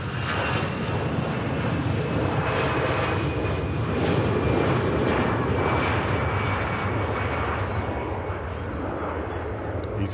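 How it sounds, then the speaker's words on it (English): An EasyJet jet airliner departs Manchester Airport for Paris with a sustained broadband engine roar. It stays loud and steady throughout and rises slightly toward the middle, with no talk over it. "EasyJet on the way back out to Paris."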